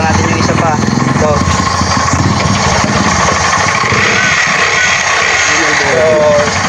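A motorcycle engine runs and revs during a stator check, a loud close buzzing drone with someone talking over it much of the time.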